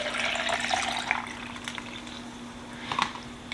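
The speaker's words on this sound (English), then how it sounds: "I pour our leftover coffee in it" Leftover coffee is poured into a reusable cup, a soft liquid trickle and splash in a kitchen with a steady low hum underneath and a few light clinks near the end.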